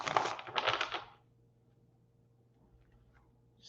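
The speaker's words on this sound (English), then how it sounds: "Just a nice shuffle." Tarot cards being shuffled by hand in two quick riffling bursts, close and fairly loud, followed by near silence with faint room noise.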